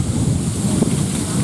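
Loud, steady rushing of a waterfall at Clovelly Beach on a pebbled shore, a dense broadband roar close by and unbroken, with no voices.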